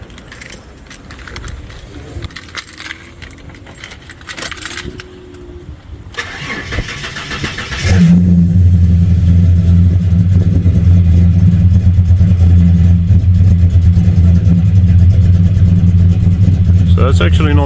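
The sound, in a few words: cammed Ford Fairmont Ghia EL engine cold start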